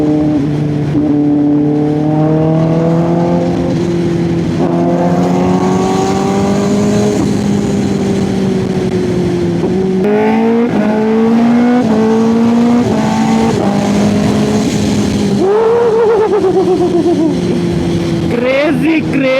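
A stage 2 tuned Kawasaki ZX10R motorcycle revs loud and close, its engine pitch climbing and dropping over and over, with a voice talking over it at times.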